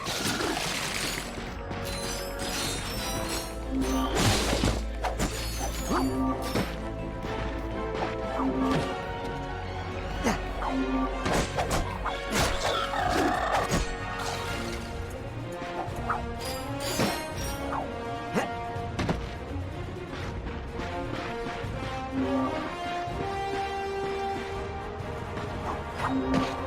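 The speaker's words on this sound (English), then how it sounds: "Look at him smashing crates." Crates being smashed in the Ratchet & Clank video game, repeated sharp cracking and splintering hits scattered through a busy, continuous mix of game music and effects that runs throughout at a steady level.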